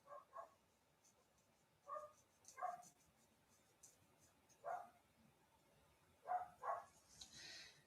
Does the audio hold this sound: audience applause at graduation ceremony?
no